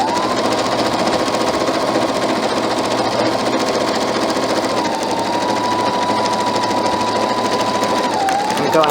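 A sewing machine runs steadily at close range, stitching pajama pants straight over pins with a continuous loud whirring hum and a slight pitch drop near the end.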